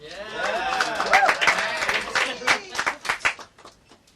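Audience at the Magic Castle magic show breaking into applause, a burst of clapping mixed with cheers and whoops from a lively room that thins into scattered claps and fades.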